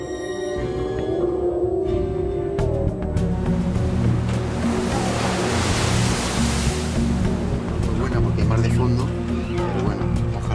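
Ocean surf and rushing water around the research ship Hespérides under way at sea, a broad steady wash of noise with a low engine-like hum, heard under music and a narrating voice.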